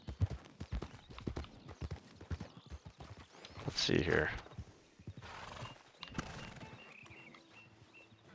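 Horse hooves clip-clop in an uneven run of close steps in Red Dead Redemption 2, broken by a loud whinnying neigh midway, while someone talks briefly over it.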